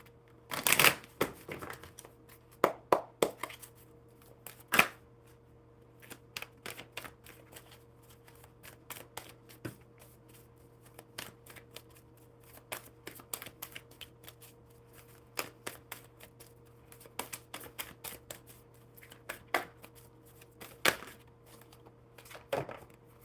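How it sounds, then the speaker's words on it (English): Deck of playing cards being shuffled at a table, sharp riffling bursts followed by scattered quieter flicks and taps, close and alone over a faint steady hum. "One more shuffle."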